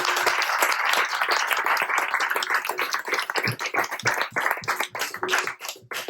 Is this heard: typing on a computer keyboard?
no